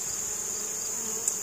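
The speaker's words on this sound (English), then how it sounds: "These bees are not fans of smoke." Honey bees buzzing during a hive inspection after being smoked, a steady, high drone from a large swarm that fills the background, fairly faint but unbroken, with one brief louder buzz near the end.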